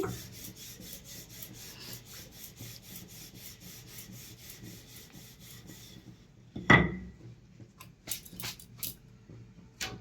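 A rolling pin working roti dough, producing a steady rhythmic rubbing back and forth for several seconds, then a soft thump and a few scattered scrapes and knocks near the end.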